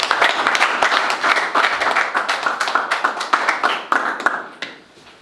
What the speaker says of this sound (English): That applause wasn't big enough